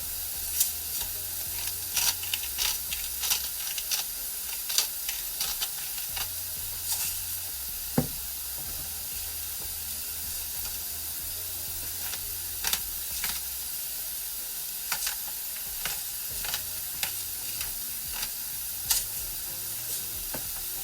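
Peppers and onions frying in a pan for chili, giving a continuous bright sizzle and hiss with scattered crackles and the occasional scrape of stirring.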